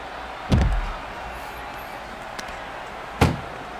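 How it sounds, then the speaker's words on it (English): Two heavy ambulance-door slams in the WWE 2K25 video game, a loud thud near the start and another near the end, separated by a quieter stretch of low background ambience. "This is a hell of a struggle, just trying to close one door."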